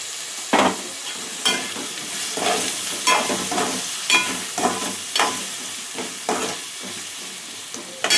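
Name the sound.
stirring potato pieces with turmeric in a frying pan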